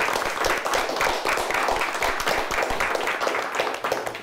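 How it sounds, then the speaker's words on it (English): Studio audience applause for two high school quiz teams at the end of a televised quiz game, steady, even clapping throughout from a modest crowd, close and fairly loud with no talk. "Let's give them both a nice round of applause."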